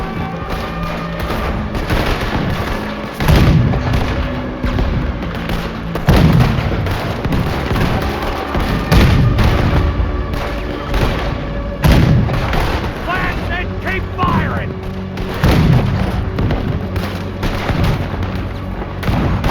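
In Red Dead Redemption 2, characters fire a cannon at a boat at night, producing heavy booms roughly every few seconds amid rumbling and clatter, with voices talking over the action.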